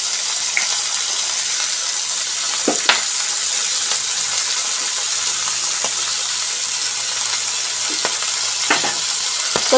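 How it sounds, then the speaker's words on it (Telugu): Ridge gourd peel frying and being stirred in a pan, a steady close sizzle running throughout with occasional sharp scrapes and clinks of a utensil against the pan. "ఇక సిద్ధం చేసుకున్న బీరకాయ పొట్టు దీంట్లో వేసి బాగా మగ్గనిద్దాం."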